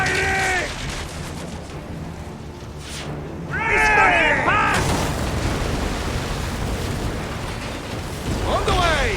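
Ship weapons fire in a naval battle in Assassin's Creed Origins, with loud booms and explosions rolling through under shouted commands and game voices.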